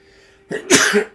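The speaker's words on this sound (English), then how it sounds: "sorry, I'm about to sneeze." A single loud sneeze: a short sharp intake followed by an explosive burst, close up, with no talking around it.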